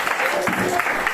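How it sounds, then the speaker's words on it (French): Brief burst of audience clapping for the speakers at a panel on African youth and politics, moderate and continuous throughout the short stretch. "Est-ce qu'on peut quand même applaudir pour les intervenants?"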